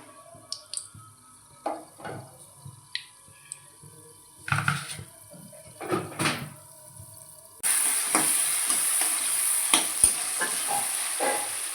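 Onions frying in a pan with bay leaf, whole garam masala, dried red chillies and sugar, cooked until reddish-brown: a few utensil clinks, then a loud, steady sizzle starts partway through and holds to the end.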